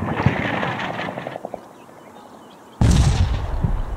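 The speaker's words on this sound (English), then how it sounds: "I'll drop artillery, heavy artillery on them" Heavy artillery in the video game Combat Mission: Black Sea, a rumbling barrage of distant booms that fades into quiet before a loud, close blast erupts and rolls on.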